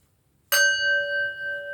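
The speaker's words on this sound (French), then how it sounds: "Un bol tibétain, un bol chantant ou une cloche" A Tibetan singing bowl is struck once, giving a sudden bright attack that settles into a long, pure, sustained ring with clear overtones, alone in a quiet room.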